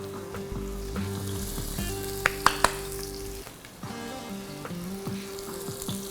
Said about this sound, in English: So once these start crackling, as they are now